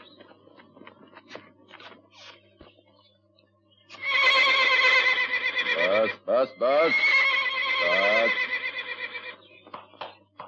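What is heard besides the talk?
horse neighing in a film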